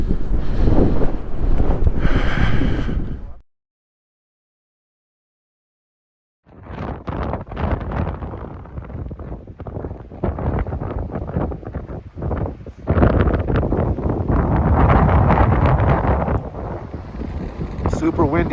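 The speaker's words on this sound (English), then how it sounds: "Super windy out here." Strong wind buffets the microphone high in the Laguna Mountains along the Big Laguna Loop Trail, a loud continuous roar that cuts out for a few seconds, then returns in gusts with occasional talk.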